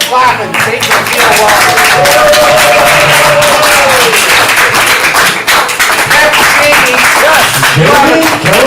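Live comedy-improv audience clapping in a loud, dense burst that holds steady throughout, with shouting and voices mixed into the applause.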